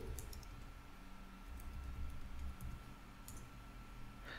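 Keystrokes tap on a computer keyboard while typing a terminal command, a handful of faint, quick clicks in a quiet room with no talking.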